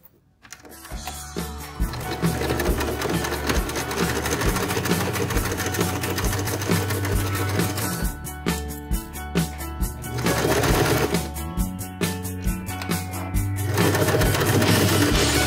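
Sewing machine fitted with a zipper foot stitching a fabric wallet, running in long steady bursts with brief pauses between.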